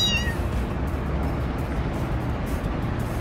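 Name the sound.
cat meowing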